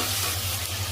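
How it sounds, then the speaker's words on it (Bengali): Chicken pieces frying in a pan for soup, a steady broad sizzle with a low hum underneath, close and continuous through the short moment. "একটু চিকেনগুলোকে ফ্রাই করে নিতে হবে।"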